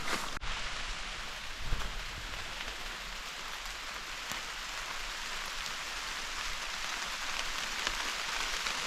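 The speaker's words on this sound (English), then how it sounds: "It started raining now." Steady rain falls in a northern Ontario forest, a continuous hiss of drops pattering on leaves and ground with no voices.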